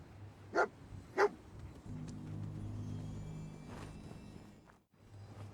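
Dog barking in the Fallout 4 video game: two sharp barks close together near the start, then a low engine-like rumble and a faint later yelp.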